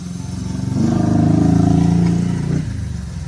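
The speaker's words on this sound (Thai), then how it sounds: "ดึงออกมาแบบนี้นะครับแล้วก็ดึงสตาร์ท ถ้าครั้งสองครั้งไม่ติดก็ให้ปิดโชคนะครับ" The small engine of an OREC AM71B sputters and catches after a pull-start, running with a steady rough idle that swells louder for a couple of seconds, then eases back.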